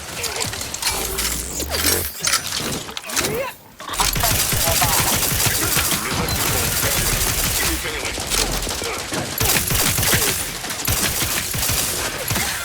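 Gunfire in The Outer Worlds 2: loud, rapid automatic bursts and mechanical clatter, briefly broken by a pause before sustained heavy shooting resumes, with a voice speaking early on.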